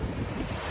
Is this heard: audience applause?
no